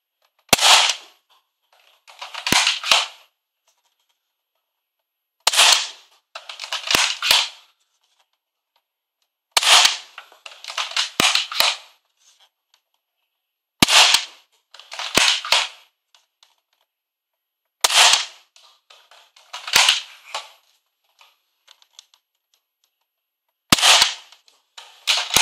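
Foam dart blaster fired repeatedly in bursts, sharp loud cracking pops in rapid groups of two or three, separated by pauses of silence as it is reprimed.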